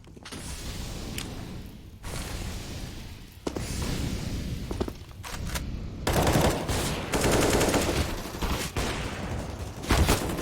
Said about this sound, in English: SMGs are ripping out and tearing through the oncoming terrorists